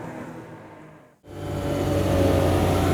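Lamborghini Diablo engine in Automobilista 2 racing at Road America, a loud mid-pitched rev that fades, cuts out briefly, then surges back up into a strong steady roar.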